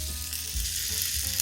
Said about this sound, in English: After my hot dogs got done boiling, I just put them into the frying pan so I can get a little crispiness to them.